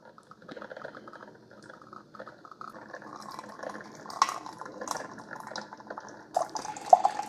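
A Mr Coffee Frappe iced and hot coffee maker brews vinegar on a hot cycle to descale itself. Faint, irregular dripping and gurgling with soft sputtering pops builds a little toward the end, with no talk.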